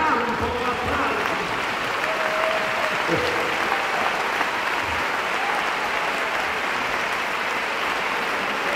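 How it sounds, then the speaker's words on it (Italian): Theatre audience applauding a comic stage performance, a steady dense wash of clapping that holds loud and even throughout, with a brief voice or whistle rising faintly through the middle. "Dategli su, che io campo con l'applauso!"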